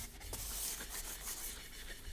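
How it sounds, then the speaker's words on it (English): Motorcycle part being scuffed by hand before painting, a faint continuous rubbing and sanding scrape lasting a couple of seconds, close and without speech. "So we just need to scuff it up for the paint to stick."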